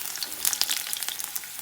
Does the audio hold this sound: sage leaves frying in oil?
yes